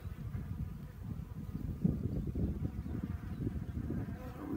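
A honey bee swarm buzzes steadily and densely throughout, a low continuous drone of many wings close by, with no talking over it.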